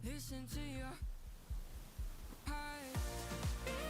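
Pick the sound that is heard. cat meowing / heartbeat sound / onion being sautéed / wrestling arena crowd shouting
heartbeat sound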